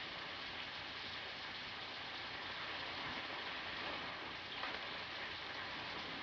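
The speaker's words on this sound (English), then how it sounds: "It's raining." Rain falls steadily in an old film scene, a dense, even hiss that holds throughout with no talk over it.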